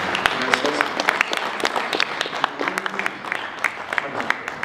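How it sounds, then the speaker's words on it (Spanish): Audience applause at a security conference in Latin America, scattered distinct claps from a modest crowd with a voice talking over them throughout. "Quedan todos un fuerte aplauso, por favor."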